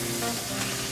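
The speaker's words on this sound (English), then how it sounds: "So we just seared the ends, just to get that nice sear on the end as well" The ends of a piece of meat sear in a hot pan, giving a steady, close, continuous sizzle with no talking.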